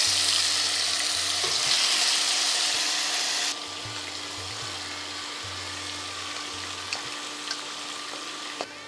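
Mutton hitting a hot pan of oil with bay leaves, cardamom, cloves and cinnamon, a loud bright sizzle that drops to a softer, steady frying hiss with faint clinks of stirring.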